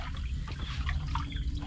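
Tidal seawater pushes inland up a river channel, giving a soft, continuous trickling and lapping flow heard close and quiet with no talk.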